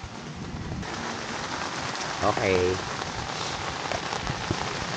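Heavy rain drums steadily on a tent at a campsite, a dense continuous hiss with a brief spoken word partway through.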